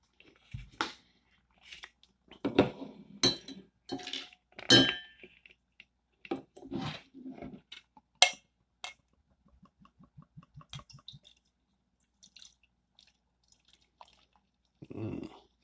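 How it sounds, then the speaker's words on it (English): La Blonde De Ch'Nord, a French bière de garde from Lidl, is poured into a glass with clinks, drips and a brief glugging stretch in a quiet room. "So let's go ahead and give it a little pour."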